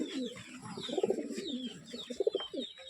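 A pigeon held in the hand gives soft, rhythmic coos in short bursts, close and fairly quiet, with faint chirps from other birds in the background.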